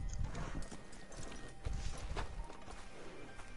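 Horse hooves in the game Red Dead Online clip-clop in a brisk, steady rhythm alongside low mechanical rumbling, moderately close and fairly quiet.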